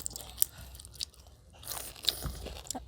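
Someone bites and chews a hard, crunchy mango picked fresh from the tree, with several close, crisp crunches and wet chewing sounds in uneven bursts.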